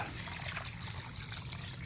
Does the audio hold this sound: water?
yes